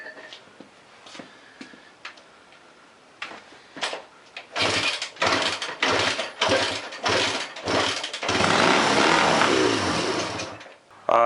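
An old 1965 Honda engine that sat for years cranks and sputters, then catches and runs in loud, uneven bursts that rise into a sustained rough roar before cutting off.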